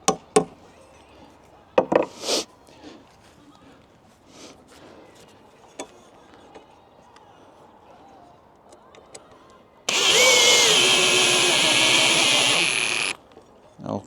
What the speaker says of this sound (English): Let's give it a hammering.